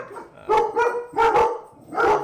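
A dog barks loudly and fairly close, four sharp barks in an uneven rhythm with short gaps between them and a faint whine underneath, no talking.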